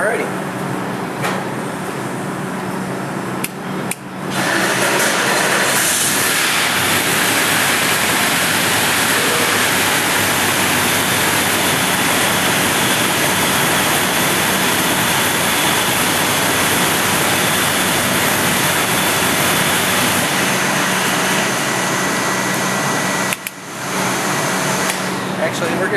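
Engine fitted with twin ProCharger superchargers roaring steadily on a test run, a loud broadband whine and rush held for about twenty seconds, with brief dips near the start and end.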